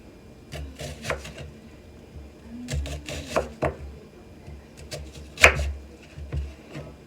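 A sharp knife slices onions thinly on a cutting board for New York City style hot dog onion sauce, making irregular close knocks and scrapes in small bursts with short pauses between cuts.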